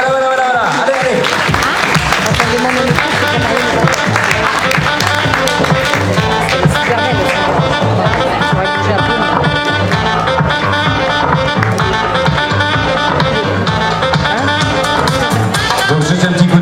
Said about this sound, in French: Ça c'est juste pour que vous l'applaudissiez.